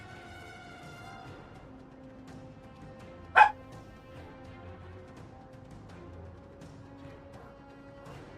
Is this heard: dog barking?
yes